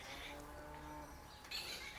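A single dairy cow that has calved once moos with a drawn-out, harmonic low call, heard up close on a dairy farm against quiet background, followed by a brief rustle.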